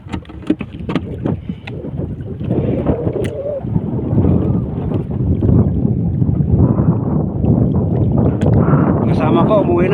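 Strong wind buffets a small paddled boat at sea, roaring steadily across the microphone with splashing water beneath, growing louder and more constant as it goes on, with a few voices heard faintly.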